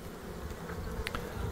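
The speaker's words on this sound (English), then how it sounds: "Lots of bees still in the bucket, but a lot of them have gone down into the hive." A faint, steady buzz of many honey bees at a hive hums in the background, with a couple of brief closer buzzes passing by.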